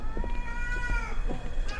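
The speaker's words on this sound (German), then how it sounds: "Irgendwo hier muss eine Katze sein" A cat meows several times in a horror video game, with repeated short mewing calls spread across the moment at moderate loudness over a steady low background hum.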